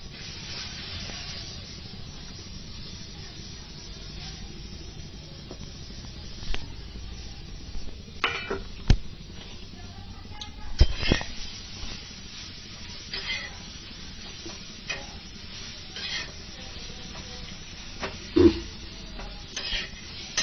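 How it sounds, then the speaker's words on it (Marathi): Guar bean pods dry-roasting in a pan, a steady low hiss with scattered clicks and scrapes as they are stirred, faint and continuous throughout. "आता आपण गवार भाजायची"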